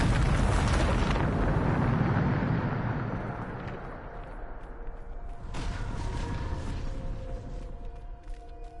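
A Bombarda blasting spell goes off in Hogwarts Legacy as a loud, deep explosive roar that rumbles for a few seconds, then tapers into a lower, grinding mechanical tail with faint debris clatter.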